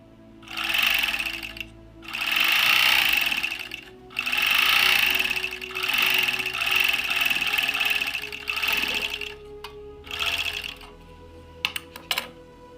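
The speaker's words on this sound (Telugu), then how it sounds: "ఇప్పుడు మనము స్టిచ్చింగ్ చేసి చూద్దాము ఎలా వస్తుందో చూద్దాము" An overlock sewing machine stitching runs in several loud, close bursts of rapid whirring, each lasting one to two seconds with short pauses between, followed by a few brief clicks near the end; no speech is heard.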